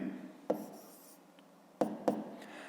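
Pen writing on paper while a math exercise is worked out: a few soft scratchy strokes, one short and then two close together, quiet and near, with faint room tone between.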